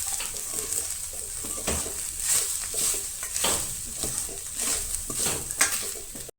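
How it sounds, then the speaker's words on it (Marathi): Grated coconut roasts in a pan while a spoon stirs it, producing soft steady sizzling with faint scraping strokes and occasional light clinks. "तर ही पळयात आता भितर सोय घालात आणि सोय बी न्हय बरी अशी भाजून घे."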